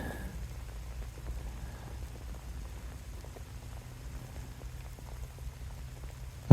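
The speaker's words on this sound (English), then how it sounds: "It's really cool to hear the bubbles just making the noise." Termidor termite foam expanding inside a wall makes a soft, continuous fizzing and crackling bubble sound, steady and close, ending in a sudden loud thump.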